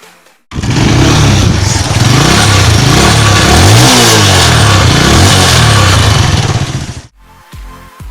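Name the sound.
motorcycle engine revving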